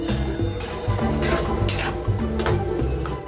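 Spice masala for Bengali chicken kosha being stirred and fried in a pan over a high gas flame, with continuous sizzling and repeated scraping and clanking of a spoon against the pan, close and busy, no talking.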